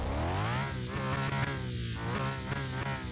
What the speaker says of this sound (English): You've got to love the beautiful sound of a V12